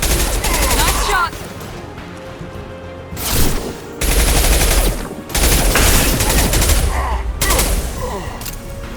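Heavy gunfire in the Mass Effect 2 Remastered shooter game: loud sustained bursts of automatic fire and shots, broken by a few short lulls, filling the whole stretch.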